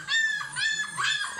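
Several young puppies whimpering and whining close up, a few high, plaintive drawn-out cries rising and falling in quick succession, with no talk.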